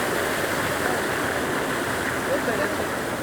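Water carrying jeevamrutham flows through an irrigation channel in a natural-farming field, a steady close rushing and gurgling wash that continues without pause.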